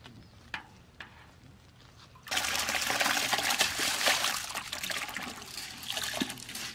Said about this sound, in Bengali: জলটা গরম হয়ে গেছে, চালটা এখন দিয়ে দেবো।